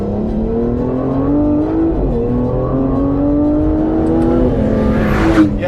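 A 2025 Aston Martin Vanquish's turbocharged engine revs close by and loud, its steady droning note climbing and falling across several pulls, with a brief sharper burst near the end and no talking.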